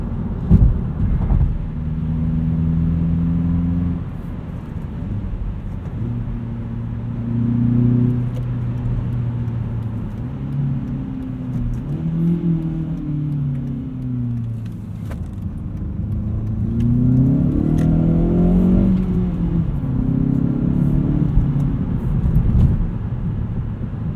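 A 2016 Hyundai Veloster Rally Edition with six-speed manual hums under steady road noise while driving, its engine pitch rising and falling through gear changes and light acceleration, fairly quiet throughout.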